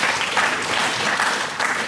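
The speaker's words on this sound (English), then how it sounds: "That applause is for all you lot" Conference audience in Blackpool applauds, a dense, even roar of many hands clapping throughout, fairly close and with no one speaking.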